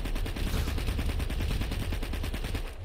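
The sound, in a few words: gunfire from shotgun pistols in Planetside 2 video game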